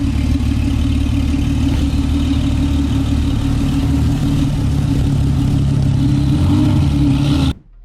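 W Motors Lykan Hypersport supercar engine running steadily with a deep, loud low rumble, holding a constant drone for several seconds before cutting off abruptly at the end.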